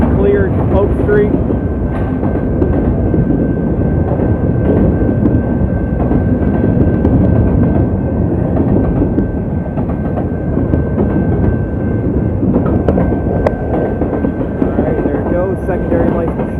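A freight train rumbles steadily past a railroad crossing in Wyandotte, Michigan, a continuous loud low roar of rolling cars with a faint steady tone above it, lasting throughout without a break.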